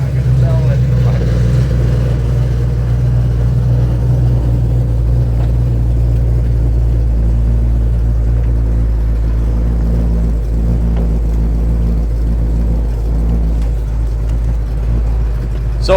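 A 1963 Ford F-100 restomod truck with its engine running, giving a steady, loud low rumble that holds throughout, with people talking faintly over it.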